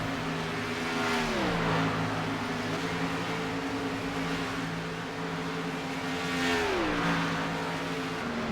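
Race cars lap the track at Indianapolis, their engine tones rising and then dropping in pitch as they pass, in a continuous loud roar with no talk.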